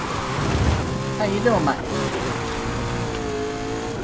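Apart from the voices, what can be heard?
McLaren car engine revving while drifting, likely video game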